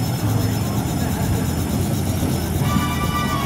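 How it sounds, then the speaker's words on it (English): Helicopter arriving at a wedding at Hangar 21 in Fullerton, carrying the bride and groom, a steady broadband engine and rotor drone holding loud throughout with crowd voices beneath. "The bride and groom are arriving in a helicopter."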